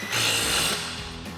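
An upper ball joint nut on a RAM 1500 front control arm is tightened with a 21mm socket and swivel on a power tool, a short whirring burst that trails off within a second.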